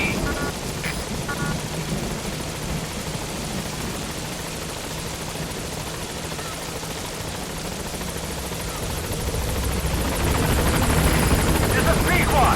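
Helicopter arriving at a landing zone in the Metal Gear Solid V video game, a steady whirring rotor drone that grows louder toward the end, with speech over it.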